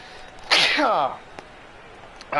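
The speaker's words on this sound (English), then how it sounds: "I really need to sneeze." One loud sneeze bursts out close to the microphone, a sharp explosive blast that trails off into a voiced tail before quiet returns.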